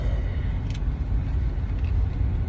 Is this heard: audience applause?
no